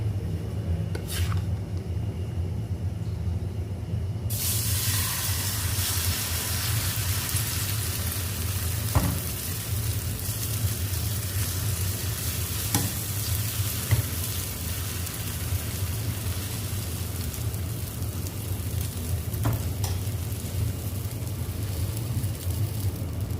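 Butter sizzles steadily in a pan under a cabbage omelette, a continuous close frying hiss with a few faint clinks from a utensil and no talking.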